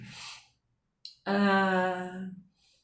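A forceful exhale through an open mouth in a breathing exercise: a short airy breath, a brief pause, then one long, loud, voiced sighing breath-out that fades away.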